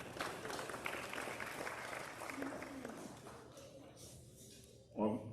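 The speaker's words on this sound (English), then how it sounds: "Give those kids a good round of applause." Crowd applause at a youth livestock show fills a large arena, a steady spread of clapping that gradually thins out and fades, followed by a short burst of someone speaking over the PA.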